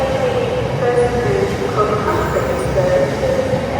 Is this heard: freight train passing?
yes